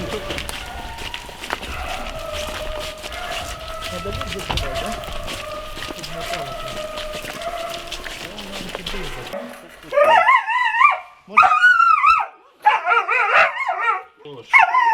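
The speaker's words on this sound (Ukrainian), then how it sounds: "а ти ж гавкаєш" A dog barking in the war-damaged town of Avdiivka, Ukraine: loud, close, rapid bursts of sharp barks and yips that follow a stretch of people talking over background noise.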